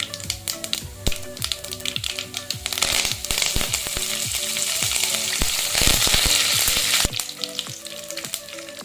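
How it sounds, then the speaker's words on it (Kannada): Chana dal and curry leaves frying in a pan, a loud close crackling sizzle with sharp popping and spatula taps, rising in intensity midway, with no voices. "ಕಡಲೆಬೇಳೆ ಸ್ವಲ್ಪ ಚೆನ್ನಾಗಿ ಫ್ರೈ ಮಾಡ್ಕೊಳ್ಳಿ"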